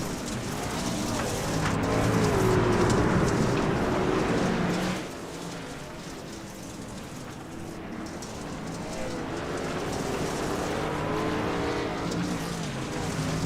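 Race cars roar off turns 3 and 4 on a dirt oval at the Margarita Bowl in Tulsa, a loud pack of engines swelling past then dropping to a lower drone before building again, with a faint announcer voice underneath.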